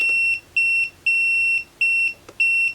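Mustool MT8206 graphical multimeter giving its continuity beep, a loud, pure electronic tone sounding in five short repeated pulses with brief gaps between them, alone with no voices.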